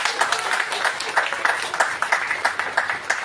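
A crowd at an UMNO political gathering breaks into dense, rolling applause, many hands clapping together in a steady, fairly loud roar that carries on unbroken throughout.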